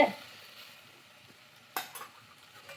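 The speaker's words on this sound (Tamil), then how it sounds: "இந்த மாதிரி வதக்கும் போது நம்ம சேர்த்த வெங்காயம், தக்காளி, பச்சை மிளகாய் 3மே சேர்ந்து வதங்கி வரும்." Onion, tomato and green chilli sautéing in a pan, with a quiet low sizzle broken by a sharp spatula scrape against the pan and a few softer stirring knocks, no talking.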